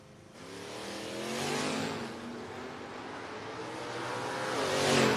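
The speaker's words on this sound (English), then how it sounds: "1969 Nova. Looking sharp there on the Octane 94 side of the racetrack against John Alloway's Malibu." A 1969 Chevrolet Nova drag races against a Chevrolet Malibu at a No-Box 660 Shootout, engines roaring in two loud surges, one early and one building hard at the end, with no voices.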